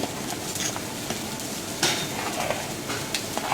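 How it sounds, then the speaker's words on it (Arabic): Macaroni stirred in a pot for Egyptian koshary gives a steady wet sizzling hiss with scattered light scrapes and clinks of the utensil against the pan, close and continuous. "نقلب كده المكرونة زي ما احنا شايفين"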